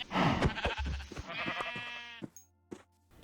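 Sheep bleat in Minecraft on Xbox 360, a few soft, quiet bleats with short gaps between them.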